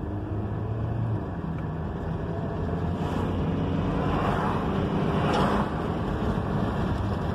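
Car engine and road noise while accelerating up to 40, a dense steady rumble with a faint rising whine in the middle, mixed with wind buffeting.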